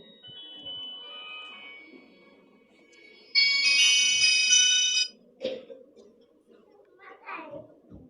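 During a spoken religious katha talk, a mobile phone rings out with a bright, tonal ringtone for a couple of seconds, louder than the surrounding speech, which continues before and after.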